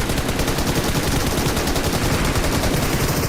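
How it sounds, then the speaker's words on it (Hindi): An M249 machine gun firing in BGMI, with rapid, continuous bursts of dense, loud shots that pound without a break for the whole stretch. "पूरी 150 गोलियां चला रही है, पूरी 150 गोलियां अपने M249 की"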